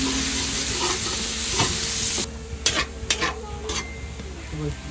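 Onions sautéing in a pan for Filipino-style spaghetti, a steady close sizzle with stirring and a few utensil clinks against the pan.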